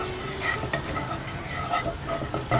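Maida flour being stirred into melted butter in a non-stick kadai for a pasta sauce, a dense close sizzle with continuous scraping spoon strokes throughout, no speech.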